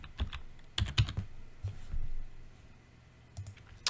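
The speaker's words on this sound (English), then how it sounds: "you type the window key and then start typing" Someone types on a computer keyboard nearby in short, uneven bursts of crisp clicks and key taps, separated by brief pauses, in an otherwise quiet room.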